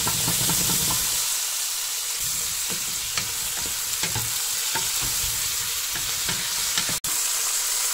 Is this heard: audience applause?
no